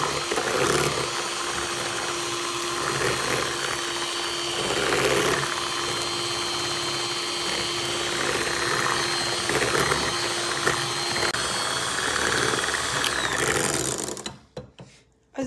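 An electric mixer whirring through a keto cheesecake fat bomb mixture, a steady loud mechanical drone with rattling, grinding texture that runs continuously before cutting off abruptly near the end.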